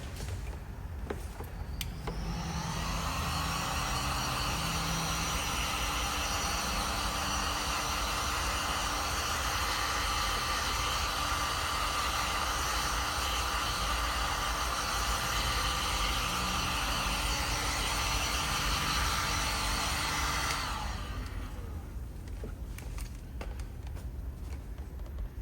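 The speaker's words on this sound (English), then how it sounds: "Let's bring in the heat gun." A heat gun runs near and loud for about twenty seconds over a restored plastic interior trim piece, a steady broadband blowing hiss with a fan whine that switches on and then cuts off.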